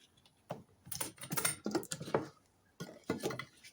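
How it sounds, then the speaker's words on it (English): Mixed epoxy primer for the doors of a 1970 MGB GT being stirred in a container, giving bursts of close, quick clicking and scraping taps in two short bouts. "Right, so we give this a good stir"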